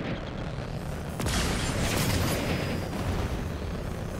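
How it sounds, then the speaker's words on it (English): Dense rumbling booms of artillery shells and explosions fill a chaotic Marvel's Avengers battle scene, a sustained loud wash with a sharper blast just past the one-second mark. "Their artillery's targeting you."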